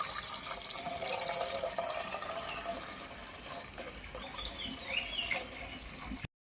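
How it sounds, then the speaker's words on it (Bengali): Amul Gold milk poured into sugar syrup for a sweet apple-and-milk sharbat, a continuous soft liquid splash and trickle that runs for about six seconds before ending abruptly. "আমরা এই আমুল গোল্ড দুধটাকে এই চিনি শিরার সঙ্গে মিশিয়ে দেবো।"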